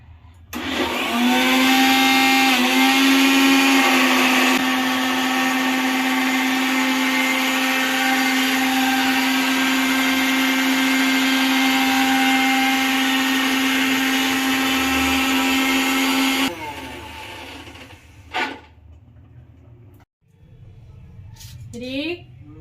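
An electric kitchen blender grinds loudly and steadily for about fifteen seconds with a whining motor pitch, then stops. Brief clatter and a short second pulse follow, and voices talk nearby throughout.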